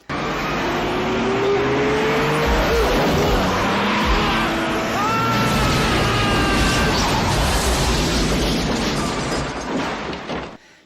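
A car from the 1997 film I Know What You Did Last Summer roars and skids, loud engine revving with squealing tires sweeping in pitch throughout, continuous and close, no talk.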